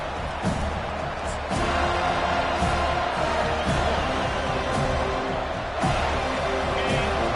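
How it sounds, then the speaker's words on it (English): A large college football stadium crowd roars steadily during the early going of a game, a dense, continuous wall of cheering with a few sharp thuds and whoops rising out of it, loud throughout. "Listen to the crowd energy here in the early going."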